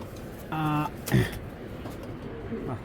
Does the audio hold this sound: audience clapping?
no